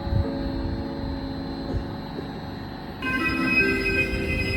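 At Vrútky station an express passenger train rolls up to the platform, a low rumbling hum with faint wheel squeal and steady mechanical drone that grows slightly louder near the end, no voices over it.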